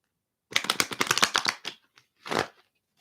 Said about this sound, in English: Let me just shuffle a little better.